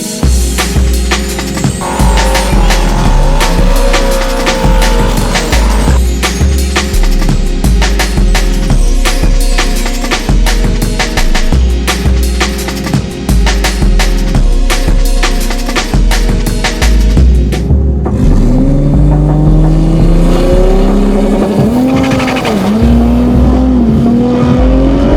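A BMW M5 G90 engine revving hard and loud at close range, with repeated sharp rises and falls in pitch, rapid firing pulses, and sustained high-rev pulls with gear changes toward the end.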